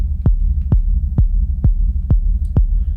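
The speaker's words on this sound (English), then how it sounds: "Let's have a listen with the kick." Techno kick drum drenched in reverb thumps six times at an even pace, each deep punchy hit trailing into a low rumbling wash that fills the gaps.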